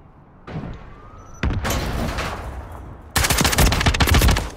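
Gunfire in an online free-for-all shooter video game: a few sharp single shots early, then a dense, loud burst of rapid automatic fire at the end, with no talking.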